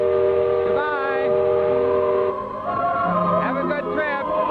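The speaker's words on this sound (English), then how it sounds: "There goes the whistle" Steam whistle of a Disneyland stern-wheel paddle boat, close and loud: sustained harmonic blasts that waver and bend in pitch, dip briefly midway, then sound again, with the hum of surrounding activity underneath.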